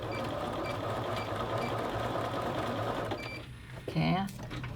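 A sewing machine stitching a sleeve onto a bodice runs continuously nearby with a steady whirring drone, while someone talks over it and speaks up more near the end.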